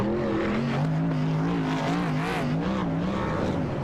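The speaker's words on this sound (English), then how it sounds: "All these drivers are going to go ahead and get their burnouts." Race trucks in the Demon Truck Series at Charlotte doing burnouts, giving a continuous, loud engine roar with wavering revs that holds steady and close throughout.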